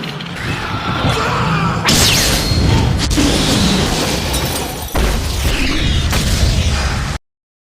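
Explosion in a film blowing up a room full of eggs, heard as a sustained loud roaring blast with crashing debris and bursts throughout, a sharp crack near the two-second mark and another heavy hit around five seconds, no talk.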